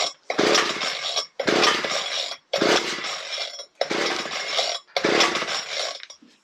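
A Ryobi petrol hedge trimmer that won't start is pull-started repeatedly: five loud, rasping cord pulls in steady rhythm, each a whirring burst with brief gaps, the engine never catching.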